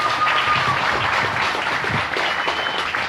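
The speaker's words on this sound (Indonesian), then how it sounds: "Kasih tepuk tangan." Applause from an audience at a Sundanese-language Islamic sermon in Bogor, a steady, dense wash of clapping that fills the room, loud and continuous throughout with no talk over it.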